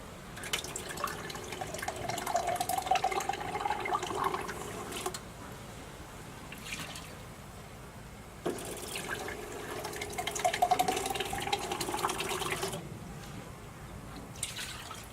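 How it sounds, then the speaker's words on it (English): Water poured into a pot on a stove top while making Spanish rice, two separate pours of splashing, trickling liquid a few seconds each with brief quiet between them, close and clear. "and about 2 cups of water."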